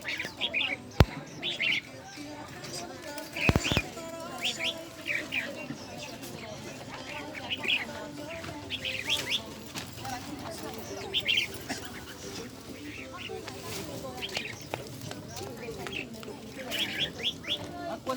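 A red-whiskered bulbul sings, repeating short bright chirping phrases at a middle distance while people talk over the steady background.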